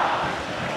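Corinthians fans chant together in the stands at Bruno José Daniel stadium during a 2008 Brazilian league match against Santo André, a brief distant crowd roar of massed singing.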